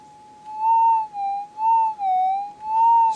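A clear electronic target tone from a Minelab GPX-5000 metal detector with a Coiltek Elite coil wavers up and down in pitch, pulsing in several short bursts against a quiet background.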